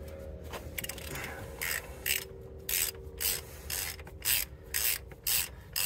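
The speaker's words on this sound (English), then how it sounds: "this grease fitting in here is a 24 millimeter, and I'm just gonna use a short little extension, make it easier to get out" A wrench on a short extension loosens a 24 mm grease fitting on a mini excavator track, giving repeated ratcheting, rasping clicks in short bursts, close and fairly quiet.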